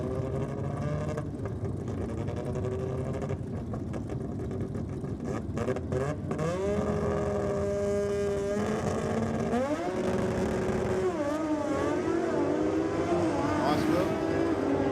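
A naturally aspirated 13B rotary drag car and a nitrous-fed Holden Kingswood launch at Sydney Dragway, engines roaring loudly with rising, sweeping revs as they pull away down the strip.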